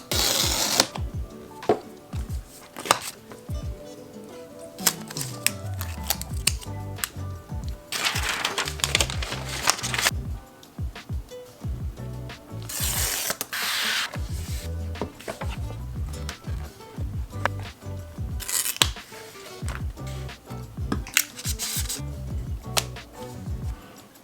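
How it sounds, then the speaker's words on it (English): New Apple iPad being unboxed, with crinkling packaging, tearing, rustling cardboard and plastic, and scattered taps and clicks from close handling, loud and busy throughout with no talk. "Let's start the unboxing with the iPad."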